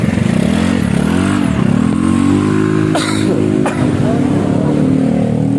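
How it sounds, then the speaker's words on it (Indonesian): A Honda Vario 150 scooter, fitted with a modified, drilled-out exhaust and a new header pipe, idles and revs close by with a loud, steady engine drone and rising pitch as it pulls away for a test ride. "Nupo mau ngetes jalan dulu ya, habis dibobok dan ganti leher."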